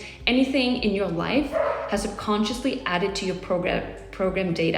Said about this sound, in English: We have a dog here too, sorry about the dog.